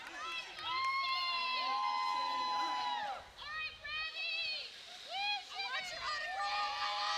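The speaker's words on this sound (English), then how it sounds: "Can you guys hear the crowd in our microphones?" Small roller derby event crowd cheering and shouting loudly, with high excited voices rising and falling in bursts throughout, close to the microphone.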